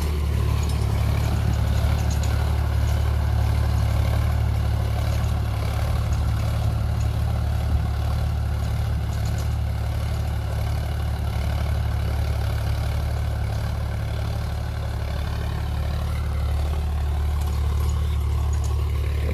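A Sonalika 35 tractor engine idles on a farm field, a loud, steady low diesel rumble with light clatter that holds constant throughout.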